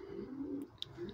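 Breeding pigeons give a low, soft, continuous coo close by, with a faint chirp and a sharp tick near the end.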